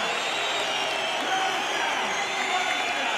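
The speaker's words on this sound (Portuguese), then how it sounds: "Meu Deus, são 6 mil pessoas a aplaudir." A crowd of six thousand people at a BLAST Pro Series Counter-Strike esports event in Lisbon applauds and cheers in a dense, continuous roar filling a large arena.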